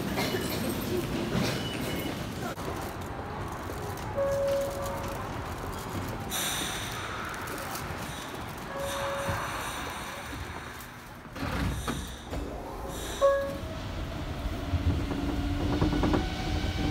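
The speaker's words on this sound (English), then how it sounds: "Now there it is, there's the monorail." A monorail train in Tokyo goes by with a steady, broad mechanical rumble that swells and fades over about seventeen seconds, with a few brief tonal whines riding on top.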